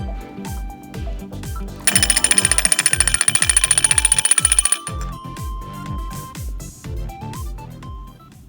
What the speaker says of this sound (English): After the motor is mounted, we can test the alarm bell.